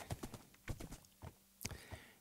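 A Minecraft horse clip-clops along in quick, uneven hoofbeats, faint and close, with no talk.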